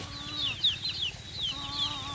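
Chickens cluck close by on a lychee orchard, with repeated high, short peeping calls from chicks coming in quick bursts.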